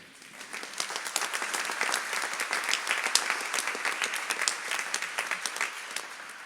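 An audience applauds a staff member of Radio Maria, the clapping dense and steady throughout, swelling slightly after the start and continuing without voices.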